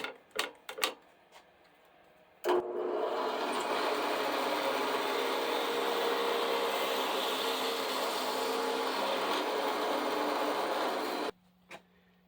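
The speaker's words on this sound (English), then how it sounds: "I've got a regular twist drill bit in here, and I have bumped the speed up to 3600 RPM." A drill with a regular twist bit spinning at 3600 RPM bores a pilot hole in a 100-year-old desk, a steady whirring grind lasting about nine seconds after a few short clicks, then stopping.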